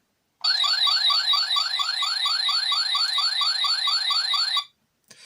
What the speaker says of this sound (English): gives you kind of an alarm sound, an alert sound.